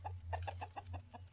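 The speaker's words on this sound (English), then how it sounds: "Leave him chickens alone, Jackaboy." Chickens in the video game Balrum cluck in a quick run of about eight short, regular clucks over a low steady game hum, faint and alone without talk.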